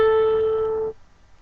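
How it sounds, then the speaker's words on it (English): A single sustained tone sounds for just under a second, clear and steady like a sounded note, then cuts off into near silence; it likely opens a sixth from C up to A, with no voices. "The next interval is a sixth, and that would be from C up to A."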